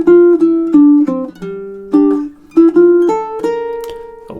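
Baritone ukulele playing a two-measure melodic riff, a string of clearly plucked single notes in a steady rhythm, close and bright, with no voices.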